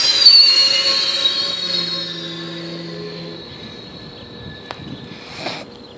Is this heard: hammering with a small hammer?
no